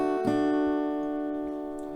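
Acoustic guitar picking out single C-chord notes, open strings ringing with a clear plucked attack near the start and sustained tones fading gently over two seconds.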